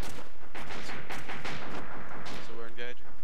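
Dense, loud bursts of gunfire from a squad opening up on an enemy patrol in the military video game FFAAA, shots packed rapidly across the clip, with a voice talking briefly near the end.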